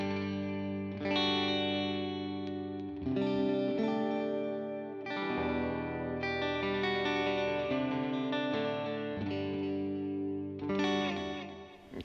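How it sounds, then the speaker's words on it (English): Electric guitar run through a Line 6 HX Stomp set to a dotted-eighth delay plays sustained chords and notes with repeating echoes trailing each phrase, steady and fairly loud with no voices. "I've got a pretty simple delay, dotted eighth, that I really like"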